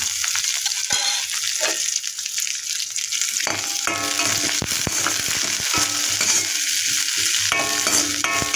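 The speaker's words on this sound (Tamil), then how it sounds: "முந்திரி பாதாம் திராட்சை இதெல்லாம் பக்கத்தில் ஒரு இரும்பு கடாய் வச்சு நெய் அதில் வறுத்துக்கணும்" Cashews, almonds and raisins roast in ghee in an iron kadai, giving a steady close sizzle broken by scraping stirs and light clinks that grow busier partway through.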